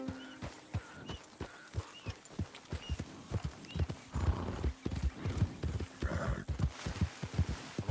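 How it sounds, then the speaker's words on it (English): A horse in Red Dead Redemption 2 pounds along in a brisk rhythmic clip-clop of hooves, with a whinny and brief game sounds mixed in, with no talk. "O cavalo tá forte."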